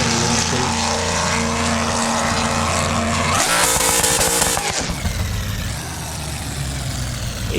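A drag car's engine in BeamNG.Drive drones loudly at a held launch rpm, then surges into a harsh roaring burst as it launches, before settling into a lower, rougher engine tone.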